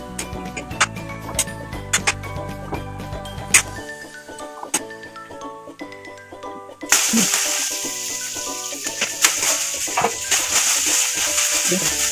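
Pork sautéing in a pan, a steady sizzle with scattered ticks and scrapes of stirring, growing louder and hissier partway through.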